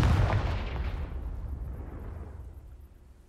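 A Confringo spell blast in the video game Hogwarts Legacy erupts as a loud, booming explosion that hits at once, then rumbles and fades away over a few seconds.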